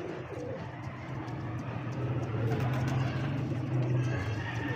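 Kamagar pigeons kept for sale in Lahore: low, repeated cooing close by over a steady background hum, with faint passing traffic and a voice talking over the birds.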